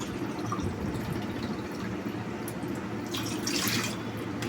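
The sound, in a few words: water being poured into a cup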